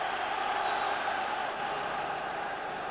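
Stadium crowd at a Rangers versus Hibs football match roars steadily after a late Rangers goal, a dense, continuous wash of cheering that stays loud and even throughout.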